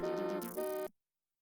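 A car horn honks in the city-building game SimCity 2000, a short synthesized blaring tone lasting under a second that shifts pitch midway and then cuts off abruptly into silence.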